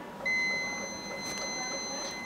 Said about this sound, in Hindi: अगर मैं इसके ऊपर का पार्ट रखूँ तो यहाँ पे बीप बजेगा, तो आपको मल्टीमीटर की एक्यूरेसी समझ में आएगी